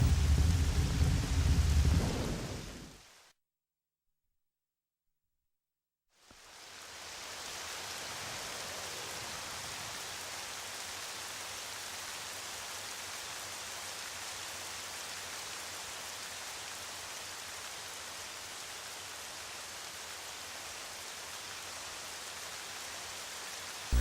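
In The Legend of Zelda: Twilight Princess, a loud rumble of thunder cuts off into a few seconds of silence, then steady rain hisses evenly and softly for the rest of the scene.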